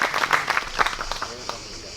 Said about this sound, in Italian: è giusto l'applauso